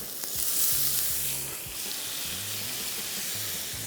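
Onion and tomato frying in a little oil on high heat for an omelette, a close steady sizzle with occasional stirring and scraping sounds.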